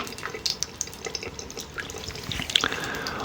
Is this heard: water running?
yes